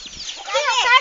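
A chicken or rooster gives a short, close, loud clucking call that rises in pitch, heard on a farm with people nearby.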